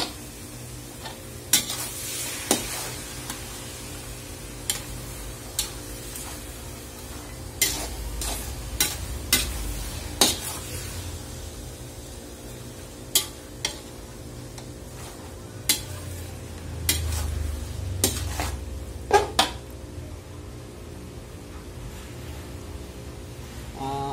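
Nine kilos of beef steak being stirred in a large pot, a quiet bubbling simmer broken by repeated sharp clanks and scrapes of a ladle against the metal.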